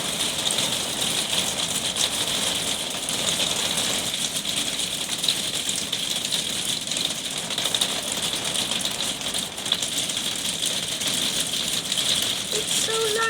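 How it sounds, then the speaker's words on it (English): Hailstones bounce and rattle off the ground in a heavy storm, a loud, dense, unbroken clatter of countless small impacts lasting throughout. "Hail bouncing off the floor."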